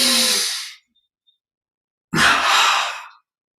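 Two deep breaths during a guided relaxation session: a long audible inhale fades out, then after a pause a strong, breathy exhale or second breath follows, close and alone with no talking.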